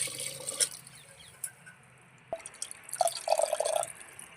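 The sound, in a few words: water being poured into lentil soup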